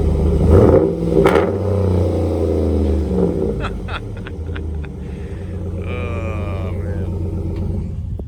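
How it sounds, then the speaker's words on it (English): A big Dodge Ram pickup truck engine rumbles loudly and revs up in a few throaty bursts, its deep exhaust note dominating, with some clatter and faint background noise. "We got to get a exhaust note on this, so he's gonna start it up."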